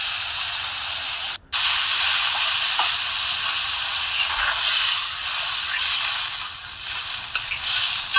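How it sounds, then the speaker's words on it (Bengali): Grass carp sizzles steadily in hot oil while being stirred and sautéed, a continuous bright frying hiss with one brief drop-out and a few scrapes near the end. "মাছটাকে নেড়ে চেড়ে ভালো করে কষিয়ে নেব"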